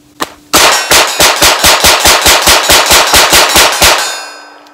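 Rapid bursts of gunfire at a shooting range while testing a Primary Arms Classic MICRO red dot, one shot, a brief pause, then about sixteen loud, evenly spaced shots ringing close and alone.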